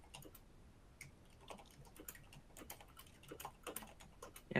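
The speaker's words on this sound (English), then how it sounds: "So I'm literally just typing it now." Computer keyboard typing with irregular clicking keystrokes, soft and close, going on steadily in uneven bursts with no voices over it.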